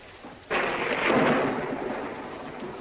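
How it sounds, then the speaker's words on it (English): Thunder breaks suddenly with a loud crack, then rolls into a deep sustained rumble that slowly fades over a rainy backdrop. "When there's thunder,"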